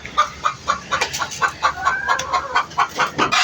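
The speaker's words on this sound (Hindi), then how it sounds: "मुर्गी चीखने में लगी हुई है।" A hen squawks and clucks in rapid, rhythmic bursts, close by and loud, repeating steadily through the whole stretch with no voices.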